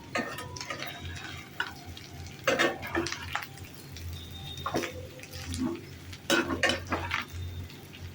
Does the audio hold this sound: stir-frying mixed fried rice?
yes